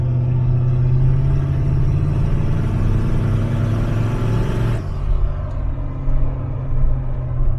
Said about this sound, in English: Let's try a little burnout up here